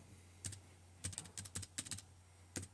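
Someone types on a computer keyboard while building a Google Sites page: quiet, irregular clusters of close keystrokes with short pauses between them, and no talking.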